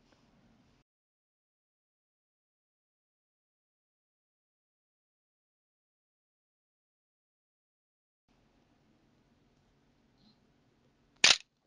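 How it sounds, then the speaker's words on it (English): A single sharp camera shutter click, triggered remotely from a Letscom smart watch, sounds near and clear after several seconds of near silence and a faint low hum. "You can use it as a remote shutter."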